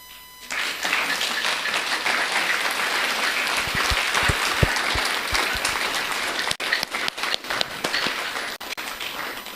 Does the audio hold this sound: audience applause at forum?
yes